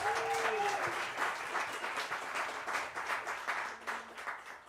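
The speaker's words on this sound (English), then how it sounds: "So let's give every one of these people a round of applause." An audience applauds a big band at a live premiere show, a dense steady wash of clapping from a crowd, with some voices calling out beneath it.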